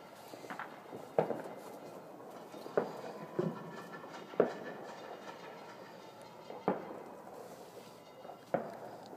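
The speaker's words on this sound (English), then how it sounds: "I don't see the fireworks, but I hear them." Distant New Year's fireworks from a neighborhood party pop and thud at irregular intervals, about eight muffled bursts against a low outdoor background.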